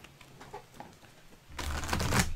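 Tarot cards being shuffled by hand, a faint riffling at first that swells into a louder, dense flutter of cards over the final second, with no talking.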